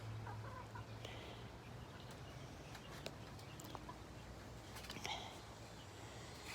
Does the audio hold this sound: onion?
no